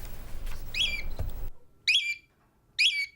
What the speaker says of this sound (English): Despite her occasional squawking, Abby the cockatiel has a pretty good life.